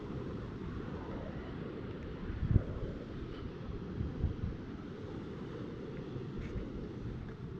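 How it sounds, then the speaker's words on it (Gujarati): Cold seaside wind at Dwarka in the morning, a steady low buffeting rush across the microphone, with a couple of faint thumps and no speech. "એકદમ ઠંડો ઠંડો પવન આવે છે"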